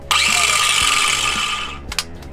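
A Sawzall reciprocating saw aboard an Amel Sharki sailboat buzzes in one loud, close, continuous burst of nearly two seconds, then stops, followed by a couple of faint knocks.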